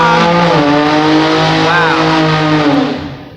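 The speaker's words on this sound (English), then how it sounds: "this guy just burnt his tires out" A car does a loud tire burnout nearby, its engine roaring steadily with a rising squealing whine before the noise fades away, while a person talks over it.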